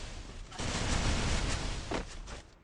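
Gunfire in the Free Fire battle royale game, a dense sustained burst of rapid automatic shots roaring loudly for about two seconds, then cutting off, with no speech over it.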